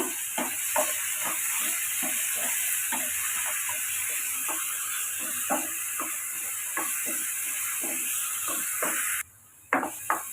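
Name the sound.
potatoes frying in oil with salt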